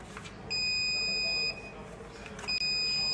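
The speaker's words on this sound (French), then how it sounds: "Et alors ici, on a le petit minuteur." An automatic hair curler's timer gives two sharp electronic beeps, each about a second long and high-pitched, separated by a short pause over faint room noise.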